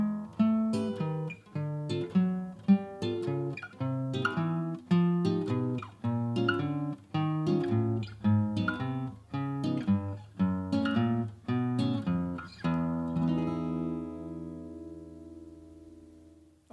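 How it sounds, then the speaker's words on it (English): A jazz guitar plays a 1-to-4 walking bassline exercise, with a bass note under chord stabs in a steady, measured pulse, clear and alone, and the last chord rings out to fade. "that was your 1 to 4 walk-in bassline exercise"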